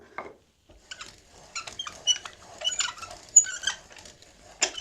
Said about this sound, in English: just take it and just dump it into a bigger bowl